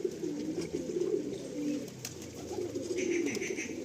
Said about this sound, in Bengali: কালদমা পায়রা